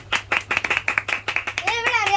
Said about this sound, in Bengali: সবাই হাততালি তো হাততালি তো